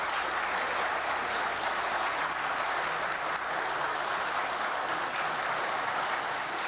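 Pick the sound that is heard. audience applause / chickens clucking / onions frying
audience applause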